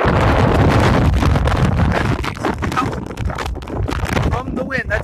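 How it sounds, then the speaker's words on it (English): Strong wind of about 25 to 40 mph roars steadily across an outdoor microphone, buffeting it in heavy gusts with no letup, while someone talks over it throughout. "the winds are so heavy right now"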